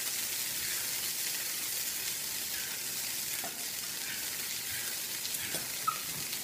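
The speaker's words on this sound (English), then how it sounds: "And brown them on the other side." Gnocchi brown in butter in a nonstick pan, a steady bright sizzle that stays even and close, with a few faint clicks and no talking.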